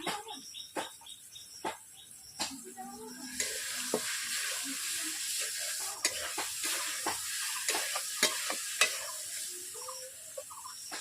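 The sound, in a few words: rohu fish frying in a pan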